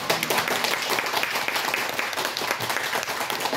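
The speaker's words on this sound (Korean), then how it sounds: "우리 주님께 영광의 박수 돌리겠습니다" A church congregation gives a sustained burst of applause at a revival meeting, dense steady clapping from a large crowd filling the room for several seconds.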